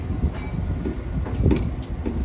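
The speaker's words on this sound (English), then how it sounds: "it's the Indiana Northeastern diesel pulling the special" An Indiana Northeastern diesel locomotive pulls a special excursion train, giving a steady low rumble with faint rail clatter that runs continuously at moderate distance.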